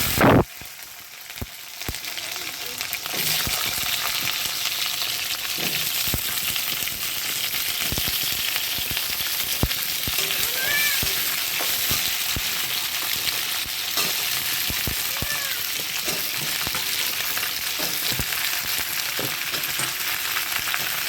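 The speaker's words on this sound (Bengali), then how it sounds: "আমি তার জন্য পাঁচফোড়ন দিয়ে দিলাম। পাঁচফোড়নটা হালকা হলেই দেব, বেশি পোড়াবো না" Panch phoron seeds and dried chilli sizzle and crackle steadily in hot oil for greens, a dense close frying hiss with occasional stirring clinks and no talk.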